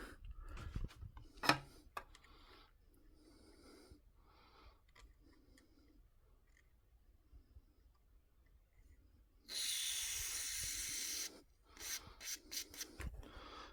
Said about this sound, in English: And spray again